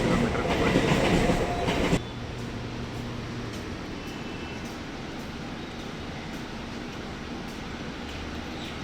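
Bandra Terminus–Surat Intercity Express running, a loud rumble and clatter that drops abruptly to a quieter steady rolling hum with faint rhythmic clicks of the wheels.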